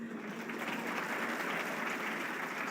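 An audience claps for the Vice Chancellor at a public lecture at Pwani University, a dense, steady wash of many hands that stays loud and even for the whole stretch.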